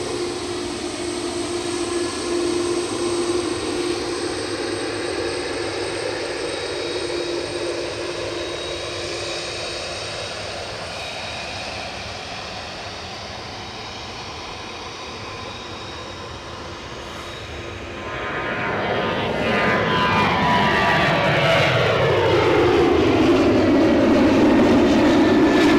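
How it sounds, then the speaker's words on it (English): Planes taking off at Edinburgh Airport: a jet engine roar builds from a distant steady drone into a loud, close rising rush with sweeping tones as an aircraft passes, with no talk. "Those planes sound bigger than what they actually are."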